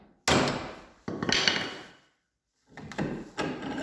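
A Turkish keser hammer strikes the tongue of a formwork lock several times, sharp close knocks with ringing tails, separated by short pauses.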